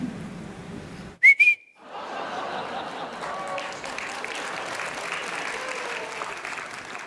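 An audience at a French season presentation event breaks into sustained applause after a short, loud whistle. Dense clapping continues steadily to the end, with faint voices mixed in.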